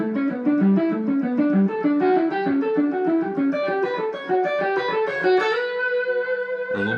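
A distorted electric guitar runs a quick sequence of notes through the B Aeolian scale in a lick, each note sustained and overlapping, ending on a held note with a final pick attack.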